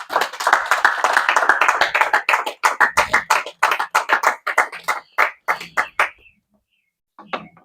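A church congregation applauds in a crisp burst of hand claps that starts dense, thins into scattered claps and stops, followed after a pause by a few last stray claps.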